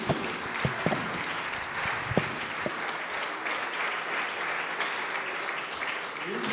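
An audience applauds after a lecture on a Congolese nationality law: steady, moderately distant clapping that fills the whole stretch, with a few sharper knocks and brief speech near the start.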